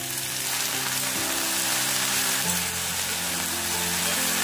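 Okra pieces fry in a pan over a medium gas flame, giving a steady, dense sizzle with no break that stays fairly loud and close throughout.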